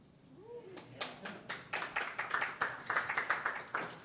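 A small audience claps at a hybrid event, a thin, scattered round of applause that builds from a few hands into steady clapping for several seconds, with a brief vocal sound near the start.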